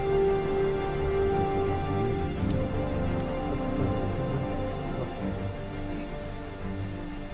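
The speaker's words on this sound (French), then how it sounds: "Il pleut des cordes" Heavy rain pours continuously in the survival video game DayZ, a dense, steady hiss close by with a low rumble underneath and no voices.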